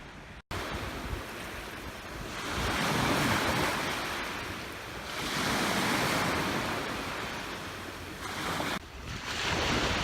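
Ocean waves roll onto Willows Beach in Victoria, BC on a chilly day, broad surges of surf rising and falling under steady wind buffeting the microphone, with no voices.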